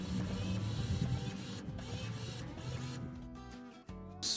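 A faulty car makes a mechanical whirring and grinding like a printer at work, steady and close, with tonal hums that shift before tapering off.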